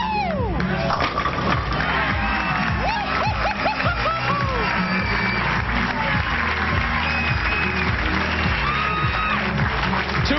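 Bowling fans at the Long Island Classic cheer, whoop and applaud bowler Belmonte, a dense, sustained roar of clapping and shouting from a large indoor crowd with voices mixed in.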